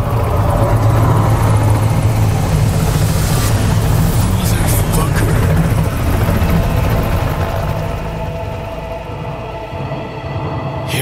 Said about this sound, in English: if that chopper gets a lock on us, we'll be as good as dead